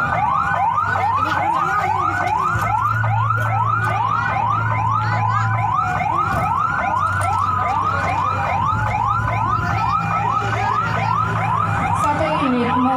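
A rapid, continuous ambulance siren yelping up and down in quick repeated sweeps during an earthquake and tsunami disaster drill at Merak port, loud and steady throughout, with a low rumble underneath.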